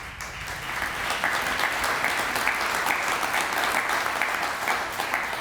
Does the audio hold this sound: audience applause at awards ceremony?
yes